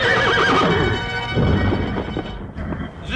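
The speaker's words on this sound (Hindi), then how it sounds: "घोड़े पर सवार होकर गरजता हुआ" A radio-play sound effect of a horse arriving on a dark night: loud, close neighing over clopping hooves with a rumbling, stormy background, and the whinny fading near the end.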